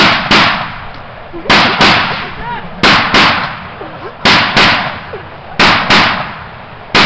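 A series of sharp, loud field gun shots in irregular clusters, roughly ten shots cracking close by in a forest with brief echoes in between.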